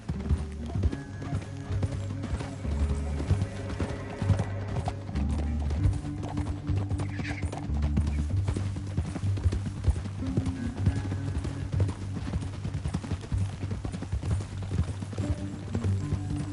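Horse hooves galloping in Red Dead Redemption 2, a rapid steady clip-clop rhythm of several riders across a canyon trail, with faint snorts and music underneath.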